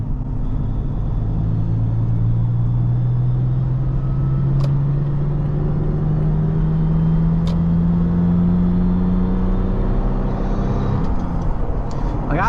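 A 2020 Toyota Tacoma 4x4's engine climbs steadily in pitch as it revs toward high RPM, loud and droning inside the cab, then drops off sharply near the end.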